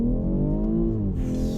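A 2018 BMW X3 M40i SUV launching hard from a brake hold, its engine droning low and loud with a rising pitch as it pulls away.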